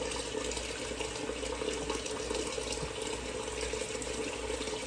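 Tap water runs in a steady, continuous stream into a sink while raw chicken is rinsed for a chicken and rice dinner, close and unbroken with no talking.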